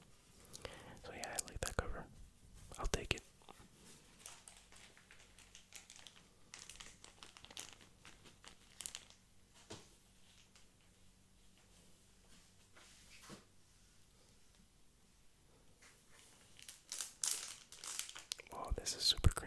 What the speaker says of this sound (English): this is super crinkly